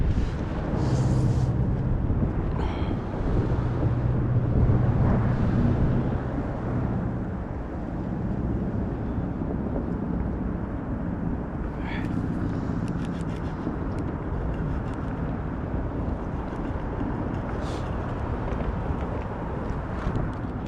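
Steady outdoor wind blows across the microphone beside a bridge on a cold, freezing day while bank fishing for bass, forming a continuous broadband rumble with a few brief higher rustles and clicks over it.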